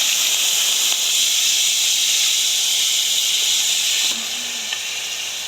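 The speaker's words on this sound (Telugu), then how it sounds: "ఉల్లిపాయ ముక్కలు అలానే పచ్చిమిర్చి వేసేసుకొని కరివేపాకు" Onions, green chillies and curry leaves frying in hot oil left from earlier frying make a steady, loud, close hiss and sizzle that holds evenly and eases slightly near the end.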